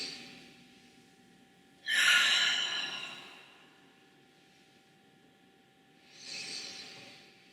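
During beginner flexibility stretches, a deep breath is drawn in and released as a long, loud airy exhale, followed a few seconds later by a softer second breath, close and with no talking.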